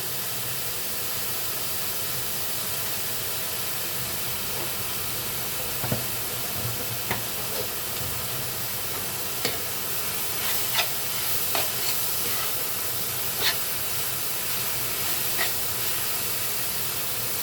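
Drumstick leaves (sajna saak) sizzle steadily in hot oil as a spatula stirs them, with scattered sharp scrapes and clicks against the pan standing out over the constant frying hiss.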